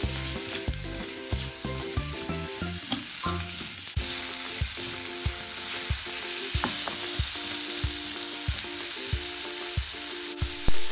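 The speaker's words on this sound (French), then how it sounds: "On y dépose l'oignon, on fait revenir le tout." Onion and beef sauté in a pan for a bitter melon and black bean dish, a continuous close sizzle broken by regular scraping stirs, with faint music running underneath.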